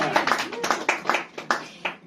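A small audience at an Edinburgh Fringe show claps in a thin, uneven scatter of distinct hand claps, fading out after about two seconds.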